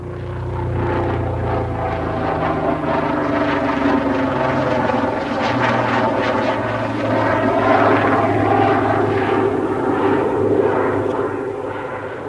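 A Lynx helicopter makes a high-speed world speed record pass over a 15-kilometre straight course, its steady, loud rotor and engine roar holding throughout with a slight swell midway.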